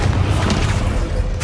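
A Flipendo spell strikes in the Hogwarts Legacy video game, giving a loud, dense booming impact over a continuous rumbling bed of battle noise that lasts the whole short moment.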